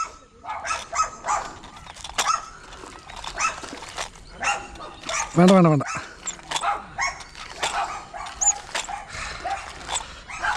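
A dog gives a short burst of barking and whimpering near the middle, surrounded by a person's nearly continuous talk and shouting during slingshot fishing in Kerala.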